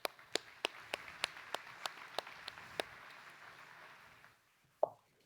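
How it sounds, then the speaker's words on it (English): Sparse, faint applause from a small conference audience, about a dozen distinct claps in a slow, even rhythm before fading out, then one last isolated clap. "let's give you a round of applause to get you started"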